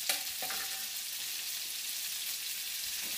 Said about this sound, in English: don't forget, I'm frying on the other side